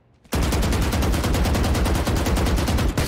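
Rapid automatic gunfire from a weapon sprayed in the video game Valorant, a loud continuous burst of fast, evenly spaced shots starting abruptly and running unbroken to the end.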